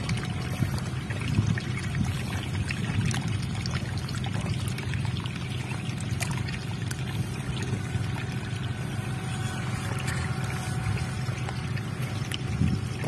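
Water pours and gurgles steadily along a dug channel into a field, a continuous close rushing flow with no pauses.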